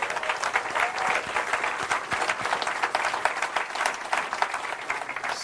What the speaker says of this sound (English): that young man over there gives us a great hand of applause